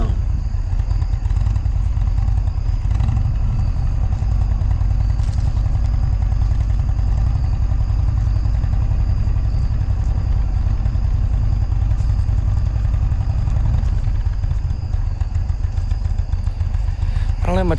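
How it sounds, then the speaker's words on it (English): A motorcycle engine hums steadily while riding along empty country roads in Ohio on a full-moon night, a continuous close drone with no break. "the hum of the engine"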